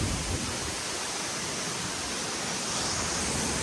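Steady, full-bodied rush of falling water at the Jami Tompobulu waterfall, loud and constant throughout with no pauses or voices.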